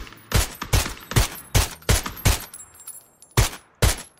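Gunfire in a shooter video game: a run of sharp, loud shots in an uneven rhythm, about six in quick succession, then a short pause and two more bursts, with no talk.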